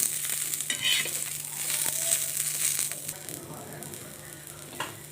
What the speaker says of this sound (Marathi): छान असं परतून घ्यायचं मिरची याच्यामध्ये